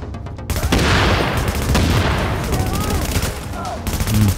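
Gunfire in the video game The Division: sustained rapid bursts and repeated shots clatter loudly for several seconds, with someone talking over parts of the shooting.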